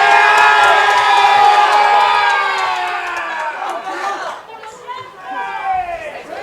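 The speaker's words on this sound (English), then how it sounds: "With a big cheer for DeBonis, the tackler there." A crowd at a varsity high school football game between Poultney and Missisquoi cheers loudly with shrill, overlapping shouts and whoops that swell at first, then fade into scattered calls and chatter before a second smaller rise.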